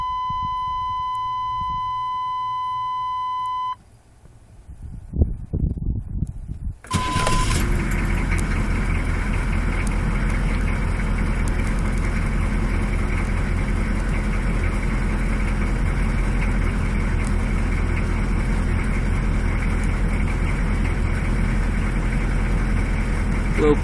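A diesel vehicle with glow plugs cranks briefly after a steady warning tone and beeps, then catches and settles into a loud, steady close-up idle that continues to the end.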